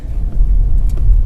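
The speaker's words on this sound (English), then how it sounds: "presently I'm driving on very irregular surface, even though it's very soft" A Hyundai Grand i10 Nios petrol car drives over a rough, irregular surface, giving a steady low rumble of tyres and suspension throughout, with a few faint knocks and no talking.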